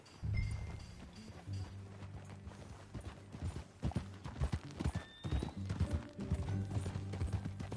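Horse hooves clip-clopping at a riding pace in the Western video game Red Dead Redemption 2, a steady rhythmic gait over a low rumbling game soundscape, with faint mechanical and ambient layers underneath.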